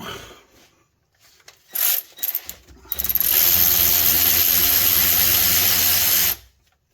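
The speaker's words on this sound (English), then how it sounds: "I broke them free with a bigger ratchet" Ratchet work on axle cover bolts of a Nissan Frontier rear axle, with a few sharp clicking bursts followed by a loud, steady mechanical whir lasting several seconds, close by and with no talk.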